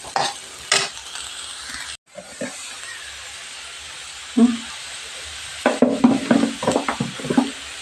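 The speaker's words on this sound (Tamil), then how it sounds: "இப்போ வந்து நம்ம வந்து மிளகாய் தூள் போடணும்." Potato and soy chunks stir-fried in a pan after chili powder goes in, bursts of loud sizzling and spatula scraping with brief pauses, then a run of rapid stirring clatter near the end.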